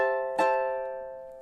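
A single plucked ukulele note or chord from a cute summery fingerstyle tune rings out with a bright attack near the start, then sustains and slowly decays, heard alone without talk.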